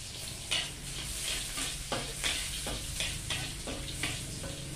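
Garlic and shallots fry in a hot pan with a steady sizzle, stirred every second or so with scraping spatula strokes, close and fairly loud with no talking.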